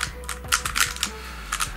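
A QiYi WuWei M 3x3 speed cube is turned quickly by hand, giving loud, crisp clicking in an irregular burst of close, snappy turns.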